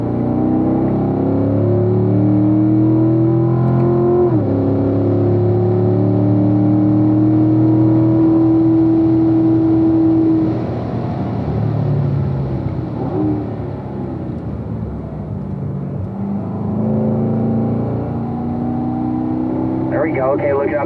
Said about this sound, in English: Get back and on the throttle right there, Mike.